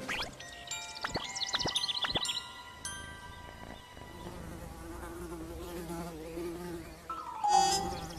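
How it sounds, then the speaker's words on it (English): Buzzing insects drone close by, with a few sharp chiming notes early on and a louder buzz passing near the end. "Buzz, buzz, said the bugs."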